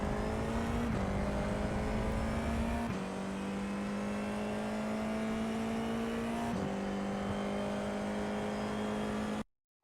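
An FIA F4 single-seater race car's engine on throttle at Hockenheim, a steady high-revving drone heard from onboard with several upshifts stepping the pitch down before it climbs again, ending in a sudden cutoff.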